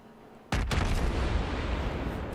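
Warship naval guns firing in World of Warships: a sudden heavy broadside boom with a quick second report, then a long loud rumbling tail that fills the rest of the moment.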